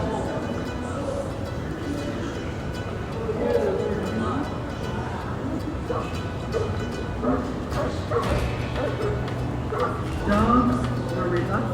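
Dogs bark and yip intermittently at a Wild West museum and sweat lodge setting, moderately close, mixed in with a steady background murmur of people talking.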